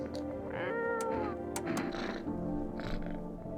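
A cat in a video game meows repeatedly, with several drawn-out, varied mews close up and fairly loud, with no talking over them.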